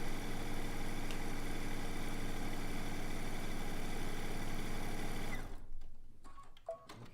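A sewing machine stitching two vertical quilt rows together runs in a loud, fast, steady whir for several seconds, then stops abruptly, leaving faint handling noises.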